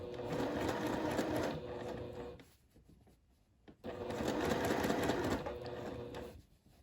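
A sewing machine runs a second row of stitching along ric rac trim, giving a fast steady whir in two bursts of about two seconds each, separated by a short quiet pause.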